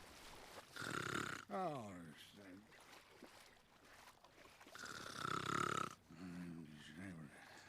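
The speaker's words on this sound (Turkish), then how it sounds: "Ben de diyorum horlama sesi nereden geliyor ya?" Loud, rasping snores with a gurgling, snorting quality come from a character in the Western video game Call of Juarez: Gunslinger, rising and falling in slow repeated breaths, with brief speech in between.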